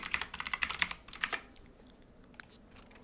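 Quick bursts of keystrokes on a computer keyboard as a short message is typed into a Sims 3 game, clicking in a fast uneven rhythm for about a second and a half before a few faint taps trail off.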